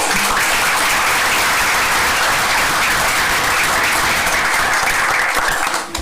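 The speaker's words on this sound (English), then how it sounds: "we can just give you a round of applause" A large crowd at a volunteer-run community event applauds steadily and loudly for about six seconds, a dense wash of clapping that fades slightly at the end.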